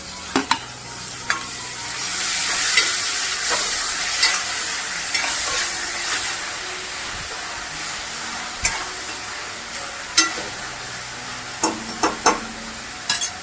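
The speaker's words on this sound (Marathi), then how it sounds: "आता आपण टोमॅटो चिरलेला घालतो आणि थोडी कोथिंबीर." Chopped tomato and coriander are stirred into a pan of frying masoor dal masala, giving a steady hiss and scraping under a few sharp clinks of the spoon against the pan.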